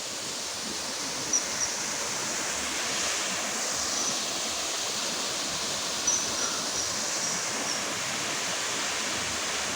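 Ayyappanovu waterfall, a broad, steady roar of falling water heard from nearby with no voices.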